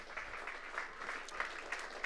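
A church congregation applauds the Lord, faint, steady clapping from many hands with a few sharper claps breaking through, heard from a distance.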